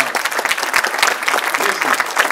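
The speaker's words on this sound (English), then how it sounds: "give him a round of applause" An audience at a Smart'N Up Black Ma event applauds with dense, steady clapping that fills the room, loud and close from start to finish.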